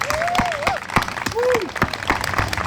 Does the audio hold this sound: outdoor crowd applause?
yes